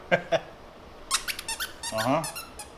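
A squeaky monkey dog toy squeezed by hand gives two short squeaks, then a run of quick squeaks and a longer wavering one, close and clear against a quiet room.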